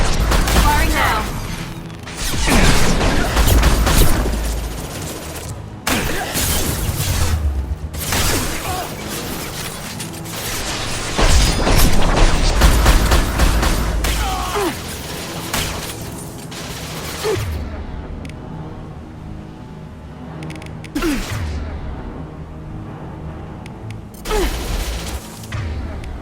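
Mass Effect 2 combat in which bursts of gunfire and booming explosions ring out nearly continuously, loud and close, with shouted voices mixed in. The fighting eases into quieter gaps near the end before a few more shots.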